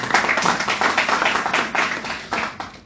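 An audience at a civic election-observation gathering gives the vice-president a round of applause and acclamation, with quick bursts of clapping rolling in uneven waves and a few faint voices mixed in.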